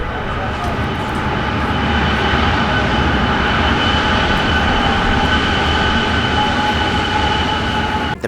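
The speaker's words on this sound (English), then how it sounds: "Oh, here comes another train." A train rolls past close by, a loud, steady rumble with rail hiss and squeal that holds throughout.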